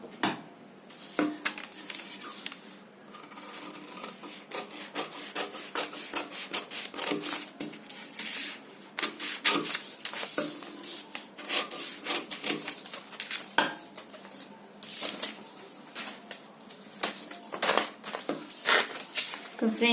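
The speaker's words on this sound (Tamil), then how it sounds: "இப்ப கட் பண்ணிடலாம்." Scissors cut through fabric to shape garment sleeves, a close series of rapid rasping snips and rubbing strokes that repeat irregularly throughout.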